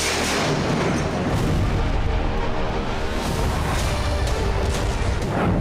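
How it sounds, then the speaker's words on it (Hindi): Loud, rumbling blasts and booming roar from a drone strike explosion in a parking area in Kyiv, sustained and heavy throughout, with no voices. "जहां पार्किंग एरिया में एक ड्रोन गिरा, जिसके बाद जबरदस्त धमाका हुआ"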